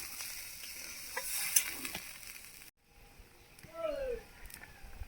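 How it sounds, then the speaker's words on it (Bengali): Water splashes into a pan of fried spice paste for a village egg curry, the sizzle and stirring dying abruptly to near silence before a softer bubbling and clinking return. "মশলা আমার কষানো হয়ে গেছে, এবার আমি পরিমাণ মতো জল দিয়ে দেবো।"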